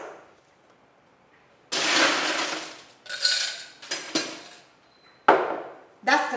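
Ice cubes drop into a cup while a layered three-tone drink is being built, giving several separate bursts of clattering and clinking, loud and close, with short pauses between the pours.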